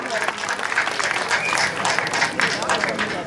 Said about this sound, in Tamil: கைதட்டுங்க. கைதட்டினாத்தே ஒரு சந்தோஷம்.